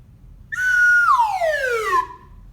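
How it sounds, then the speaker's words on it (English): A slide whistle holds a high note, then glides smoothly downward to a low pitch, a single clear, loud sweep lasting about a second and a half in a quiet room. "let's follow my slide whistle."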